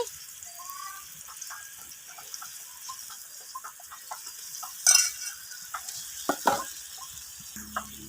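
Hilsa fish pieces frying in oil spiced with coriander powder give a steady, faint sizzle, broken by a few louder clatters and scrapes toward the end.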